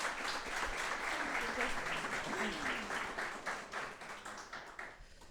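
Audience applause at a startup kick-off event, moderately distant and even clapping with faint voices underneath, gradually fading toward the end.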